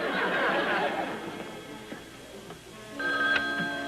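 An old-fashioned telephone rings in a domestic room, its bright repeated bell bursts sounding toward the end after a stretch of indistinct background noise.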